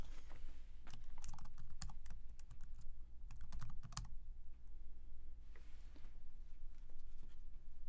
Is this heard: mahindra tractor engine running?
no